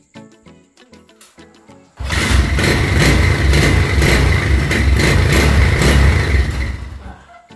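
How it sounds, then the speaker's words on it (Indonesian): A motorcycle engine, with a fault that makes it sputter, starts and revs hard, a loud, steady roar close by that holds for several seconds before easing off, preceded by clicks and knocks. "perhatikan tadi motor saya prima tanpa berbet, gas-gas"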